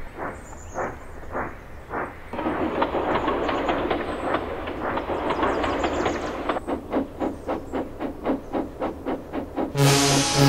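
Cartoon steam engine puffing in rhythmic chuffs that quicken and turn into a rapid clickety-clack of wheels, with a steady hiss underneath and a sharp burst of steam at the end.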